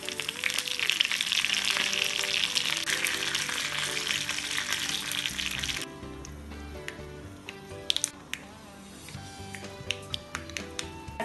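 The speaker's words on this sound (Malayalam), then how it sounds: "1-2 വറ്റൽ മുളകും കുറച്ച് കറിവേപ്പിലയും ഇട്ട് കടുക് പൊട്ടിക്കാം." Mustard seeds crackle and splutter in hot coconut oil with dried red chillies and curry leaves, a dense loud sizzle that drops off halfway to quieter scattered pops and taps.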